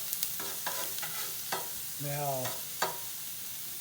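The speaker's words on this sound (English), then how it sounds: "I'm going to saute this for about 4 or 5 minutes so they start to soften up" Garlic cloves sautéing in a pan over medium heat, a soft sizzle with a few light stirring clicks, while a voice speaks briefly.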